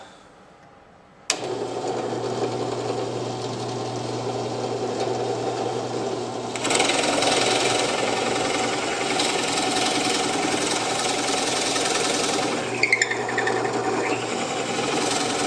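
A drill press bores holes in red oak and ipe wood, starting with a sharp click into a steady motor whine, then growing louder and rougher as the bit cuts, with a few brief knocks near the end.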